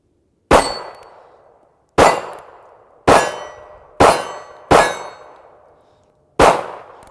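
Shots from a Ruger LCP pistol strike a steel target, six loud ringing clangs at uneven intervals, each with a short metallic decay and no talking.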